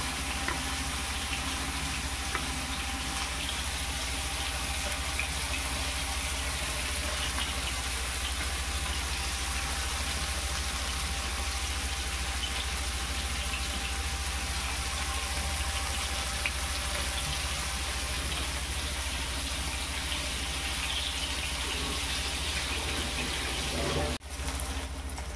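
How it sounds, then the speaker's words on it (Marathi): Small bombil (Bombay duck) fish fry in very hot oil, giving a steady, dense sizzle and crackle that carries on without a break from start to finish. "मोठी बोंबील असले ना बघा असे एक एक एक एक तेलात सोडले."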